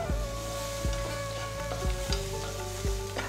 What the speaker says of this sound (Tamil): கருவேப்பிலை சேர்க்குறேன், மறந்துட்டேன்.